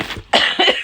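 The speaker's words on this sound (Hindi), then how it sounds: "खांसी नहीं मनूस मेरी ठीक हो रही।" A woman coughs twice in quick succession indoors at home, short harsh bursts close to the microphone.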